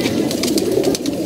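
Close, loud throaty cooing from pigeons kept at home, a quick burst of rolling coos with no talk.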